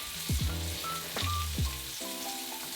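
Salmon sizzles in a pan of melted butter as it is basted with a spoon, a close crackling fry punctuated by a few soft scraping strokes and faint clinks.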